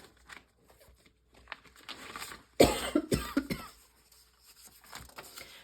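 A burst of coughing, several rough coughs in quick succession, fairly close, with quiet rustling before and after.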